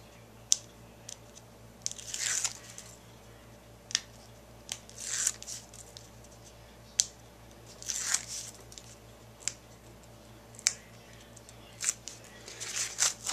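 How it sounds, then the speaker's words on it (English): Adhesive-backed paper pieces for a handmade card being peeled and handled, giving a series of sharp crinkly snaps and soft rustles spread through the stretch, close and moderately loud with no talking. "let me peel this off"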